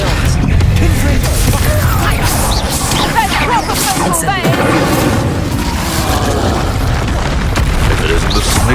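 Loud spell-combat booms and blasts from the Confringo spell in Hogwarts Legacy pile into dense, continuous explosions with whooshing bursts, and voices shout through the chaos.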